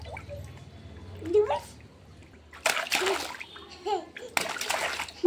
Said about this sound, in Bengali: তাড়াতাড়ি স্নান করে নাও